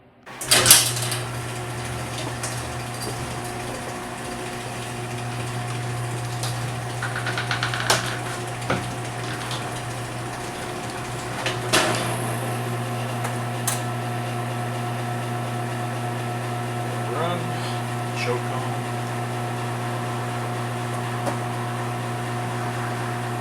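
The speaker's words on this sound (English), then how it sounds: "I'm gonna open the garage door and we will fire this up" A garage door opener motor hums faintly and steadily in a home garage, with a few scattered clunks and rattles over a continuous low drone.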